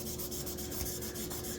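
Hand lapping of an RTX 4090 graphics card surface: steady, close abrasive rubbing with a faint back-and-forth rhythm, continuous and fairly quiet with no voices.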